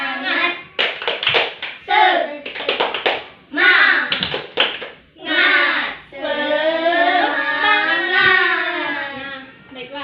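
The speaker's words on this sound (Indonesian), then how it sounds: "Kita bersama-sama ya. Ya. 1, 2, 3. Tepuk Semangat." A primary school class in a combined-grade lesson claps the rhythmic Tepuk Semangat pattern together, loud and close, with children's voices chanting along through much of it.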